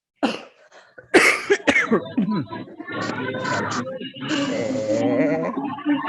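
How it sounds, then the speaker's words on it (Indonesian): A few sharp, close coughs break out in quick succession, followed by a person talking steadily. "Sebentar, batuk."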